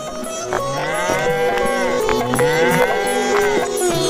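Cattle lowing loudly and close, long drawn-out moos with bleat-like calls, several overlapping calls in quick succession, fitting a pair of bulls bought at a village fair.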